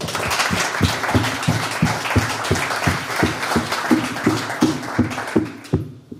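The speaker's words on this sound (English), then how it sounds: "So a big applause to all finalists." Audience applause for competition finalists at a business innovation grand finale in Prague: steady, dense clapping from a crowd that fades out at the end.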